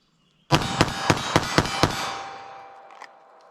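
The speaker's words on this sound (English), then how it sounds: "I'm gonna get a sight picture, pop off some rounds, see how the controllability feels for me" Six quick .380 ACP FMJ pistol shots fired at a target on a range, evenly spaced and loud, each a sharp crack, followed by a fading ringing decay.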